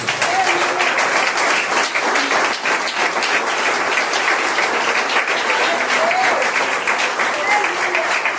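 A church congregation breaks into sustained, loud applause, with a voice sounding over the continuous clapping throughout.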